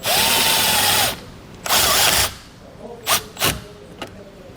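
A power drill drives a self-tapping screw while a Curt circuit-protected tail light converter kit is installed and its wire is secured. A long, loud whir is followed by a second burst and a few short, quieter pulses as the screw seats.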